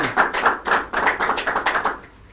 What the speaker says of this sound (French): les applaudissements du public introduisent ces charmantes dames qui nous accompagnent